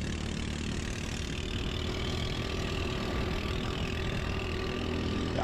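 Racing kart engines drone steadily on a track at Lone Star Kart Park, a continuous mid-distance mechanical hum with no breaks.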